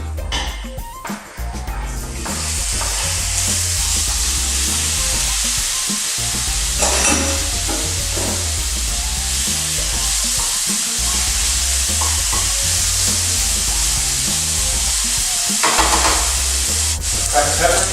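Chicken meat frying in a pan, a loud continuous sizzle that swells as the meat goes in, with stirring scrapes and utensil knocks, no speech.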